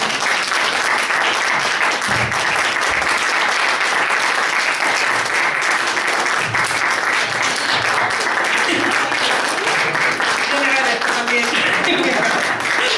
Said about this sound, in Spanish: y no tenemos a Roger Benit, que os vamos a aplaudir, por favor